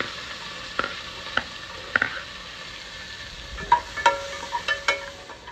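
Sliced onions and slit green chilies for a foxtail millet egg biryani fry quietly in oil. A soft, low sizzle runs under a few sharp utensil taps and scrapes that cluster toward the end, with no speech.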